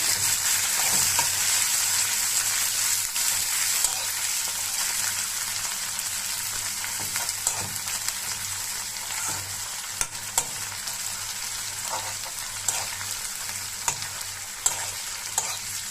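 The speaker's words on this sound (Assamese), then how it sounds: "এতিয়া পেটুখিনি দি অলপ ভাজিম" Fish belly pieces fry with half-cooked onions in a pan, making a loud, continuous hissing sizzle with a few sharp pops and ticks, close by and with no talk.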